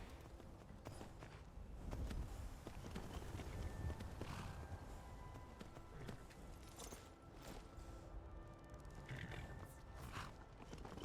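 In the video game Skyrim, a horse's hooves clip-clop in a quick, steady rhythm, with an occasional snort, over a faint game soundscape.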